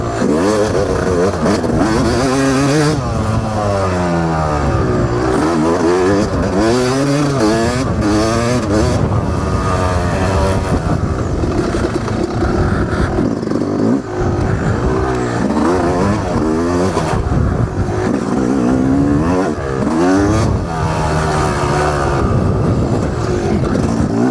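Dirt bike engine revving hard during off-road riding, loud and continuous with rising and falling pitch sweeps as the throttle opens and closes, close to the rider with no talk.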